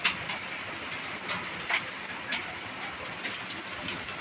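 Rain and hail strike the body of a truck, a steady hiss of falling water broken by scattered sharper impacts that come every second or so, moderately close.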